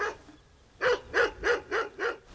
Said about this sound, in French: Il y a le chien qui a répondu là.